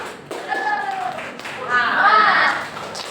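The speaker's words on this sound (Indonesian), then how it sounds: "Coba tepuk semangatnya dulu. Tepuk semangat." A classroom of children doing a rhythmic spirit clap, short patterned claps and taps mixed with young voices chanting along, close and fairly loud.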